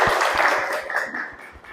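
A classroom audience gives a student a short round of applause, with scattered claps close by and a brief murmur of voices under them.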